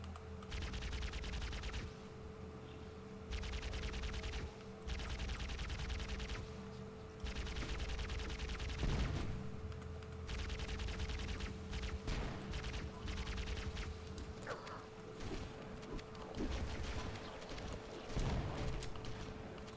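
Shotgun fire in the Halo video game campaign, repeated bursts of blasts over continuous game noise and a steady background hum, shots coming in irregular clusters throughout.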